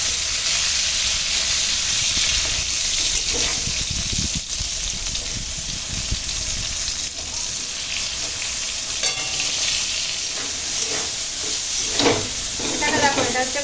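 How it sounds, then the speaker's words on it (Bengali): Sliced bitter gourd and pumpkin frying together in a pan, a dense steady close sizzle with stirring scrapes and occasional clatters throughout, no talk. "করলা টুকরো করে কাটা আর কুমড়ো আর করলা একসঙ্গে নেড়ে ভেজে নেবো"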